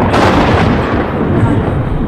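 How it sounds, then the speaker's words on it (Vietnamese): Thunder sound effect in a spooky story, a loud, dense, rumbling boom that fills the whole clip without a break. "kèm theo đó là tiếng gió thổi rất là mạnh luôn, và tiếng sấm chớp ầm luôn"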